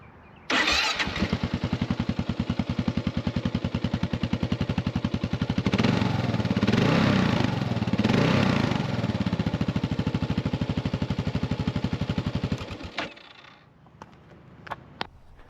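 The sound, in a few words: 2023 Kawasaki KLR 650 Adventure motorcycle starting up and idling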